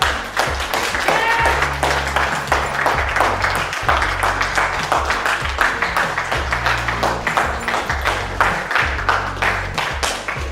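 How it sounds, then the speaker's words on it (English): Clapping for a crew member during a film production behind-the-scenes segment, rhythmic claps over a loud pulsing music bed with a faint voice in the mix. "Applause for Jonathan Villa! Let him know it"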